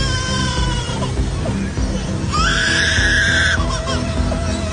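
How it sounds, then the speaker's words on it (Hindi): A lyrebird calls loudly with shrill, scream-like cries and a sustained sweeping whistle, rising above a dense, noisy background. "lyre bird."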